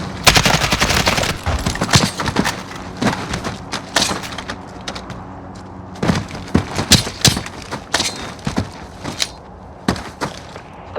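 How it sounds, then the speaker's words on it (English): Video game gunfire from the Modern Warfare 2019 campaign: loud, close bursts of automatic rifle fire and single shots in irregular volleys, with sharp impacts and thuds between them, and no voices over it. "Shoot the left too."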